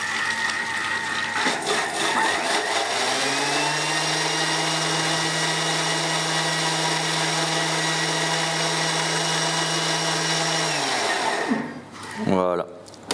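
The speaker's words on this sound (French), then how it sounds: "Voilà, un bon coup de mixeur." An immersion blender mixes cream in a pastry kitchen with a steady, loud whir that runs for about eight seconds without a break. Its pitch swells at the start and falls away as the motor stops, followed by a brief clatter.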